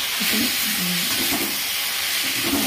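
Spinach sautéing in a pan with spices and chillies gives a steady loud sizzle and hiss, with faint stirring scrapes underneath and no talking.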